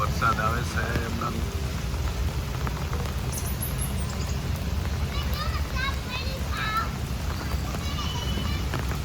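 Rain falls steadily in cool monsoon weather among green trees, a dense hiss throughout with a few bird chirps and faint voices in the background.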